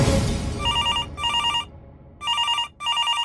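Telephone ringing with a bright electronic bell pattern, several bursts broken by short gaps, loud and close after a brief noisy start.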